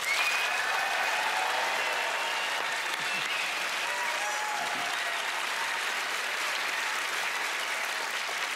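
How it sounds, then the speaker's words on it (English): Sustained applause from a large studio audience at a magic show fills the clip, loud and even from start to finish. "Ladies and gentlemen, please give a warm round of applause for Mr. Terry Fader and Winston the Imperson"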